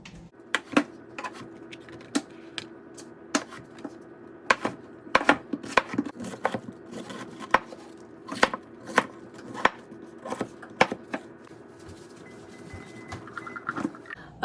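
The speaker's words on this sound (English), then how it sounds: "Josh is peeling and cutting the sweet potato for me." Knife chopping a peeled sweet potato on a cutting board, sharp irregular taps spaced through the stretch, some in quick pairs, close and clear with a faint steady hum behind and no talking.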